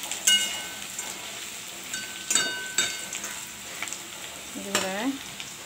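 Bhujiya vegetable frying in a pan, a soft steady sizzle punctuated by several sharp clinks and scrapes of a utensil stirring against the metal, fairly quiet and close with no talking.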